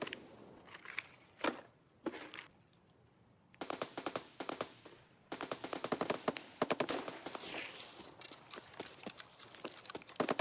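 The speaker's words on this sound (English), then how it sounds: "I'm not sure who's being shot at from where." Gunfire in Escape from Tarkov: loud rapid automatic bursts and single shots, some near and some more distant, arriving in uneven clusters separated by brief pauses.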